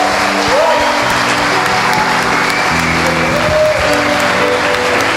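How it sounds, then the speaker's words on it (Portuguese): A church congregation claps in sustained, dense applause throughout, loud and close, with a few voices faintly mixed in. "Dá uma salva de palmas para Jesus na vida deles."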